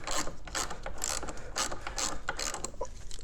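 A ratchet wrench loosens a 15mm bolt on a Ski-Doo 850 Turbo snowmobile with the parking brake set, giving a rapid, steady run of close clicking pawl sounds in repeated bursts, with no talking.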